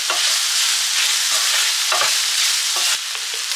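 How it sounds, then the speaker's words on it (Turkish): Spices, salt and sweet red paprika being stirred in a hot oiled pan, a steady close sizzle broken by several scraping stirs of a utensil, no talk. "Biraz karıştırayım. Bir iki tur."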